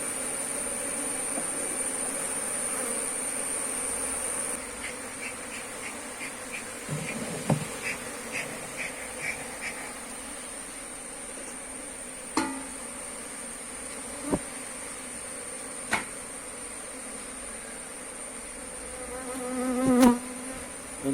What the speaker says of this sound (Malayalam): ഇതിനകത്ത് ഈച്ച ധാരാളം ആയിട്ടുണ്ട് കേട്ടോ